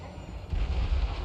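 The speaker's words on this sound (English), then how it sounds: "Infantry got caught with some Hell Cannon barrage." Hell Cannon artillery barrage in the fantasy battle game Total War: Warhammer 3, a dense low rumble of booming impacts that swells midway and rolls on continuously without speech.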